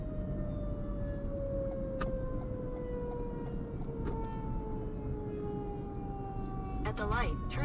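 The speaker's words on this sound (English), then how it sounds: "Yep, sirens are blaring." Emergency vehicle sirens wail steadily in the distance, heard from inside a moving car on a storm chase near Tulsa, Oklahoma, over constant road and engine rumble.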